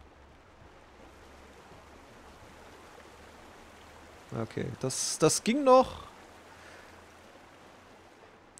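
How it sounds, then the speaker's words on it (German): Waterfall in the video game Guild Wars 2, a soft steady rushing wash of water that runs throughout at low level, with a brief spoken remark partway through. "Aber schöner Wasserfall."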